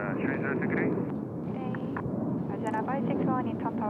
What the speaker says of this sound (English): There we go, Mongolian 737-800. Back to Ulaanbaatar.